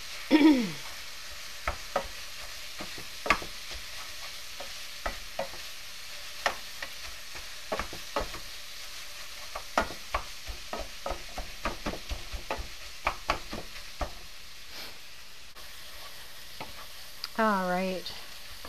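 Onions, carrots and celery cooking in a pan on the stove, a low steady sizzle punctuated by frequent sharp scrapes and taps of a utensil stirring the vegetables, close.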